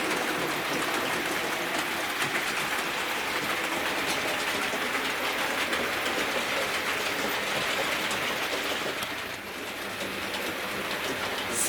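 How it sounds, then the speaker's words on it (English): Two model railway steam locomotives, Blackmoor Vale and Sir Archibald Sinclair, pull Southern carriages around a track loop with a steady, continuous rolling rattle and hiss that stays fairly loud throughout. "I hope you've enjoyed watching these two locomotives running around my model railway"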